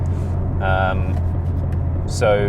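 A 600-horsepower, rear-wheel-drive 2025 Aston Martin Vantage with a 4-litre twin-turbo AMG V8 hums low and steadily throughout, with brief bursts of a person talking over it.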